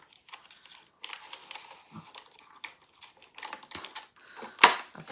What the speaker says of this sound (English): Let's glue these down. I'm going to use my tape run just for a bit of speed.